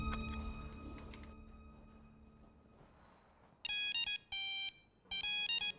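A phone rings in a domestic drama scene, three bursts of a loud electronic ringtone after a fading stretch of background sound.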